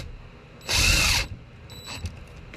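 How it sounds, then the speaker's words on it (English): Power drill driving a self-tapping screw into a plastic bumper on a Sprinter van, one short loud whirring burst of about half a second, followed by faint clicks and quieter mechanical noise. "I'm going to go ahead and screw in this end one right here"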